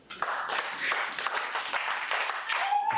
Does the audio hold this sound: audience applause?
yes